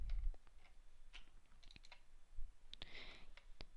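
Soft, sparse clicks of a computer mouse, quiet and close, scattered irregularly across a few seconds with no voices.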